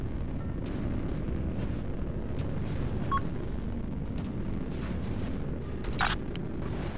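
Sustained gunfire and heavy booms in a naval battle game with 250mm sprinter guns, a constant dense rumble of distant shots and explosions with occasional sharper cracks, no talking.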